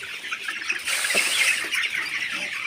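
Sonali chickens cluck and chatter on a farm at feeding time, a busy continuous flock sound with overlapping calls at moderate loudness.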